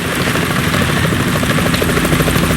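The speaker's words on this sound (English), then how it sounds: "Is that a chopper I just heard?" Helicopter flying in the video game Metal Gear Solid 2, a loud, steady rotor thrum and engine roar filling the whole stretch with no voices.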